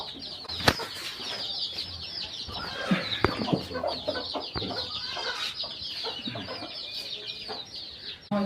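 Desi breed hens with chicks on a farm, clucking and flapping close by amid busy rustling, with sharp knocks and a continuous chatter of small birds.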